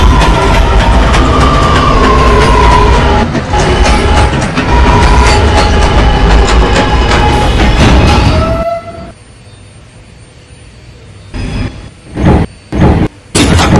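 An R211A subway train on the A line to 207th Street runs in the video game New Transit City 3, a loud, steady rumble and clatter that cuts off abruptly, followed by quiet and a few short bursts.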